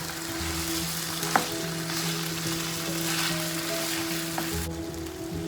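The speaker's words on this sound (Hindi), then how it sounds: "साथ ही ब्राउन प्याज भी ऐड कर देंगे और इसको फ्राई करेंगे। कुछ मिनट के लिए इसको फ्राई करेंगे।" Chicken and browned onions fry in a pan with a constant crackling sizzle, a couple of sharp knocks from stirring, and a faint steady hum underneath.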